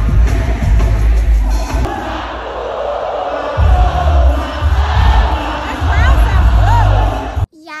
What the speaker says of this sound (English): that crowd was so loud